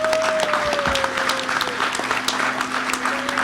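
Steady applause from an audience at the close of a medical panel meeting in Miami, dense and continuous clapping over a faint room hum, with no speech on top.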